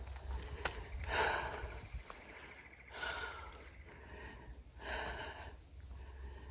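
A 54-year-old woman hiking uphill alone breathes heavily and close to the microphone, three loud rasping exhalations spaced about two seconds apart over a low rumble.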